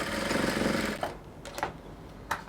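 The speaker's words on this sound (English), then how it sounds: "I'm going to stitch the two edges of the collars together" A sewing machine stitches the two edges of a standing collar on a bubu dress, a steady close whirring for about a second before it stops, followed by a few faint clicks and handling noises.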